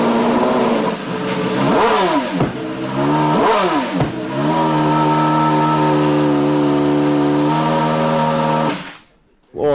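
Newman Haas Indycar on a full race-distance practice run, its high-pitched engine screaming loudly as it revs, shifts and passes close by before cutting off abruptly near the end.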